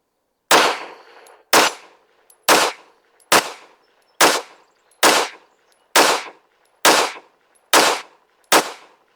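A pistol topped with a Gideon Optics Mediator red dot fires about ten sharp, loud shots at a shooting range, evenly spaced roughly a second apart, each crack ringing out briefly before the next.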